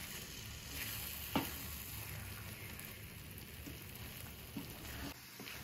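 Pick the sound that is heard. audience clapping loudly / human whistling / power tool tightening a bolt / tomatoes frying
tomatoes frying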